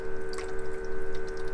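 A small water pump in a van fridge runs while filling an ice-maker tray, a steady electric hum under close trickling and dripping water.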